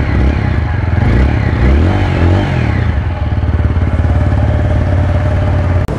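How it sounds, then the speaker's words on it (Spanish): A 2024 TVS Apache 160 4V fuel-injected motorcycle with ABS, already warmed up, revs loudly and close by, its engine rising and settling with a throaty, rumbling growl and steady mechanical clatter. "Ese ronquito de la moto es muy bueno"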